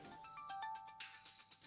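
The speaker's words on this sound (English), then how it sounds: "Is there a phone again?" A phone rings in the PS3 game Hyperdimension Neptunia as a steady electronic ringtone with a quick repeating pulse, alongside background game music, with no talk.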